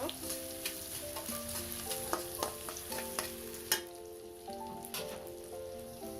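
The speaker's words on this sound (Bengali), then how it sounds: "এখন এই পেঁয়াজটাকে আমি একটু ভেজে নিব" Onion with green chilies and whole cumin fries in a pan for a sardine curry, a soft, steady sizzle broken by scraping stirs, faint beneath background music.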